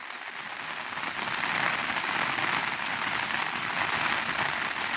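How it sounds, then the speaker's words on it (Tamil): Heavy rain falling steadily on flooded rice fields, a constant close hiss of countless drops with no pauses or voices. "இப்போ மழை பெய்து கொண்டிருக்கு பாருங்க"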